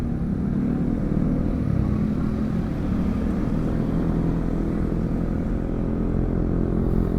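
A motorcycle rides along a road near San Pedro, Laguna, giving a steady, close engine rumble mixed with wind noise that runs unbroken throughout.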